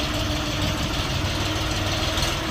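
An Orion 244 mini tractor engine runs steadily, a loud, close, continuous low diesel chug and rumble with no voices.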